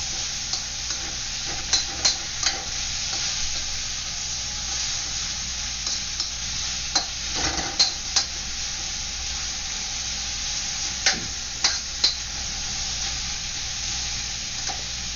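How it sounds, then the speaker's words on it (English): Green beans sizzle and hiss steadily in a hot pan for a Chinese beef stir fry, with sharp intermittent scrapes and clatters of stirring over the constant frying. "You're basically frying up the green beans before you make the sauce"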